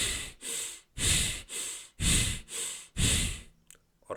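Deep breathing from the lower body in a breathwork exercise, heard up close as a steady rhythm of long, loud breaths, about seven strong strokes with short pauses between them and no talking.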